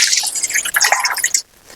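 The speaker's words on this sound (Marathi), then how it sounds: "आपण हे 400 ग्रॅम पाणी आहे त्याच्यामध्ये घेऊया" About 400 grams of water is poured into a large bowl to make dhokla batter, a close, bright burst of splashy, bubbling drips that lasts just over a second and then stops.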